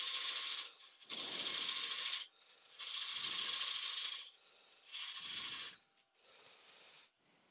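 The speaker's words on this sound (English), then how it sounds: "Then I can take most of the material off with the bowl gouge to get it out of the way" A bowl gouge cutting wood on a lathe, five long rasping passes of steady shaving noise separated by short pauses, close and loud with no voice.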